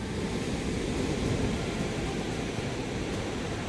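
Ocean waves at the beach in Zipolite make a steady, unbroken wash of surf with a dense low rumble and no voices.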